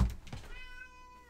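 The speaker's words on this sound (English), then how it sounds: "Stop my cat from attacking a bag again." A pet cat gives one short meow close to the microphone, preceded by a soft thump, in a quiet indoor room.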